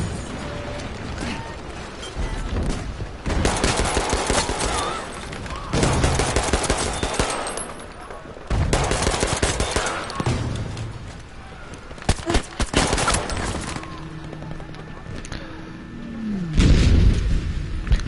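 Rapid bursts of automatic gunfire and mechanical weapon clatter from a shooter video game, loud and dense in several clusters, with a low boom near the end.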